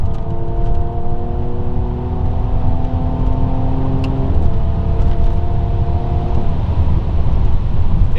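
A Mercedes E53 AMG Coupe accelerates hard, its engine note climbing steadily then shifting around the midpoint, loud and close with a constant road and wind roar beneath.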